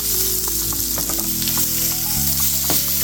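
Shrimp searing in a hot pan, a steady, loud, close sizzle that fills the whole stretch, with a few light pops and crackles and no talking.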